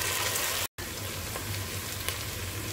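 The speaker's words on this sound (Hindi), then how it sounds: "ऑनियंस को हल्का फ्राई करना है आपको।" Chopped onions frying lightly in a pan for zam zam pulao, a dense, steady sizzle with a brief dropout near the start and no talking.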